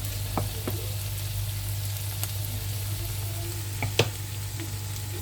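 Potatoes frying in a pan with oil, butter, garlic and onion for a skillet gratin, a steady soft sizzle with a low hum beneath and a few brief utensil clicks, no talking.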